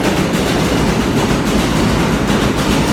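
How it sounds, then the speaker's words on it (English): A train passes close by in a loud, steady rumble of rolling wheels and rail clatter that fills the whole stretch without a break. "I hear a train coming"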